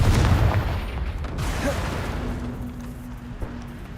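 Confringo blasting spell in Hogwarts Legacy erupts as a loud, booming burst at the start that rumbles and fades into a low steady hum over a few seconds.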